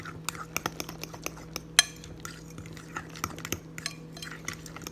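A spoon stirs baking powder into banana bread batter in a bowl, giving soft scraping with sharp clinks against the side that recur unevenly, each faint and close by.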